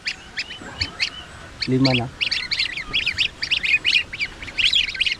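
Goose and duck chicks peeping in rapid, high repeated chirps, with a brief honk-like call and a short spoken voice in the middle.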